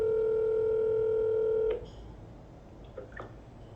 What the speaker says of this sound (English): now let's phone the lucky winner. One sec here. Get on speakerphone.